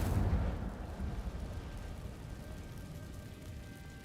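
An Incendio fire spell from Hogwarts Legacy erupts with a loud, deep burst that settles into a rumbling roar and slowly fades.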